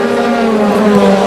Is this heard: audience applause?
no